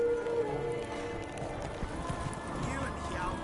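A horse gallops in The Witcher 3, quick rhythmic hoofbeats at moderate distance under game ambience, with voices speaking over the running.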